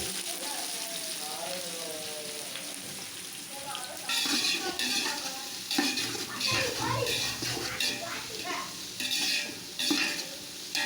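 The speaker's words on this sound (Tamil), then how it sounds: "இப்போ நம்ம நறுக்கி வச்சுருந்த வெங்காயத்தை ஆட் பண்ணி நல்லா வதக்கணும்" Chopped onions sizzle and crackle in hot oil and ghee for a mutton dum biryani, quiet at first, then louder frying with repeated stirring scrapes of a spoon in the pan.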